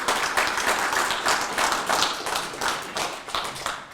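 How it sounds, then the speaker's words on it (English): An audience at a referendum talk claps for a speaker, a steady, fairly close patter of many hands that continues throughout without fading. "If you can give her a round of applause."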